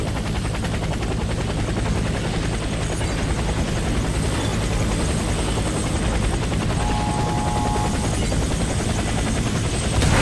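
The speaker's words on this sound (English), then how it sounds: "helicopter for extraction." An extraction helicopter in the video game WarFace gives a loud, continuous rotor thrum with steady chopping pulses, close and unbroken for the whole stretch.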